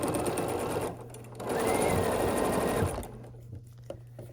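A sewing machine stitches quilt block seams in a steady whirring run of about a second and a half, then pauses, with quieter handling sounds before and after.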